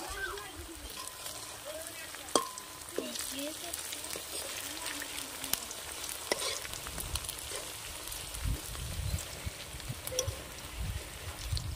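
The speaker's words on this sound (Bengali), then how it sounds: "এই সময়ে উনুনের আঁচটা কম রাখতে হবে, যাতে ভালো করে পকোড়াগুলো ভাজা হয়" Semolina pakoras frying in oil over a low flame, with a continuous soft sizzle and bubbling close by and occasional small knocks and faint voices in the background.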